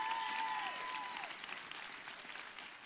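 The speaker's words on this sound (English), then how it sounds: "let's give God a great big hand clap of praise" A church congregation clapping in praise during a Father's Day service, a fairly soft, diffuse wash of hand claps that fades gradually over a few seconds, with a brief tonal whistle near the start.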